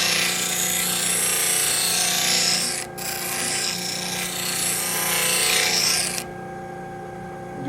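A disc sander blends the edge of a spaghetti utensil, a loud continuous abrasive roar with one brief dip near the middle, then a drop to a quieter motor hum as the piece comes off the disc.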